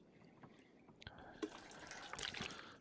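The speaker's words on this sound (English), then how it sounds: "I'm going to go ahead and get the water out of this toilet" Water gurgling and dripping as it is collected from a toilet in The Long Dark survival game, soft liquid trickles and small splashes building up over a few seconds, quiet and close.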